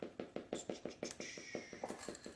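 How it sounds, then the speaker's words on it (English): A dog scratching herself nearby gives a steady run of about a dozen quick rhythmic thumps and scrapes, fairly close and loud, with a brief higher scraping rasp partway through. "That's my dog in the background, by the way. Scratching herself, making all that noise."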